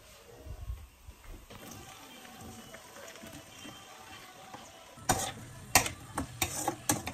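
Chopped carrot, cauliflower and broccoli going into a pan, a quiet bed of sizzling first, then a burst of loud clattering and sharp sizzle as the vegetables land and are tossed.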